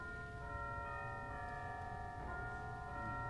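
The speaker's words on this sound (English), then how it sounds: "There's a set of 1915 chimes on this organ." Set of 1915 pipe organ chimes ringing out in Derry, several sustained metallic tones overlapping and decaying slowly at steady volume, with no voices.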